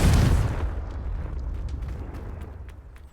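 An explosive Confringo spell in Hogwarts Legacy bursts in a loud, close boom that rolls off into a long rumbling, crackling decay of scattered debris.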